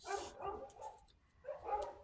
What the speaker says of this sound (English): Those darn dogs.